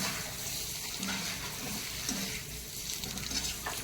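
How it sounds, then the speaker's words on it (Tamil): Slit boiled eggs fry in masala for egg biryani, giving a steady, close sizzle with a broad hiss and faint bubbling and stirring throughout. "இப்போ கீறி வச்ச முட்டைகளை போட்டுருவோம்"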